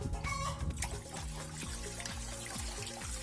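Bordeaux mixture, a lime and copper sulfate solution, poured through a funnel into a sprayer tank fitted with a pressure gauge, a close continuous trickling gurgle of liquid.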